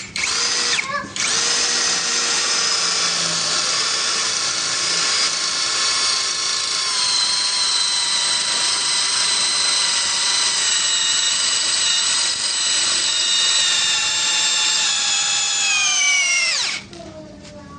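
Kyoal 16V brushless cordless drill boring a 10 mm hole into a masonry wall, a loud steady high-pitched whine running continuously for about sixteen seconds before cutting off abruptly.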